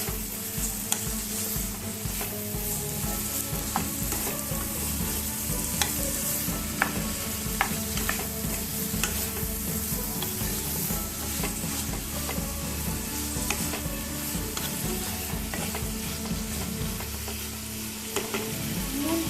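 Tomatoes stir-fry in a pan for kadai paneer, a steady, dense sizzle running continuously close-up, dotted with frequent small scrapes and taps of a spatula.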